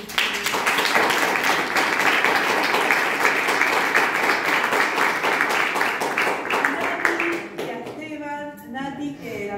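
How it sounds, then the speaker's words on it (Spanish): An audience at a book presentation for a work on monologue dramaturgy applauds in steady, dense clapping that lasts several seconds before thinning out as a voice begins speaking over the last claps. "quiero darle un aplauso porque lo hizo posible"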